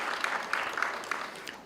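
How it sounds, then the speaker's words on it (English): Applause from an audience at a Walter Sisulu University graduation ceremony in Butterworth, a steady, moderately quiet patter of clapping with a few sharper claps standing out. "I think that deserves a round of applause."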